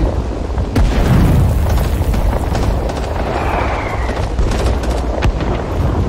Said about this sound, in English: I think there's mortars coming down for definite.